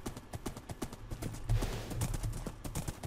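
Horse hooves clip-clop at a steady, quick rhythm while riding in the video game Minecraft. The hoofbeats are clear and close and continue without a break.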